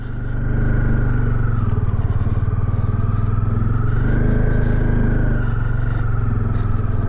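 A heavily loaded motorcycle labours through deep sand on an off-road mountain route in Ladakh, its engine close and loud with a steady throbbing drone that rises and falls slightly as it pushes on.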